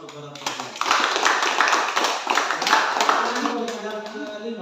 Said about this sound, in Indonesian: kita beri aplaus kepada Tuhan